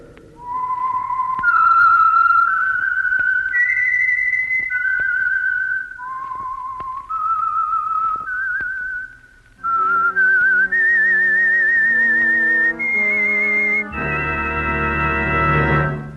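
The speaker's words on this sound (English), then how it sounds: "That whistle is your signal for the Signal Oil Program, The Whistler." A lone whistler carries the theme tune of The Whistler radio drama, clear sustained melodic notes rising and falling in phrases, loud and close, with no voices.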